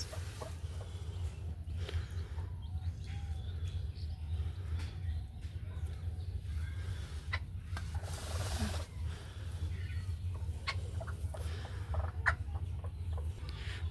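Chickens on a small village farm, with a hen and newly hatched chicks, cluck in scattered short bursts over a low background rumble, close and moderately loud.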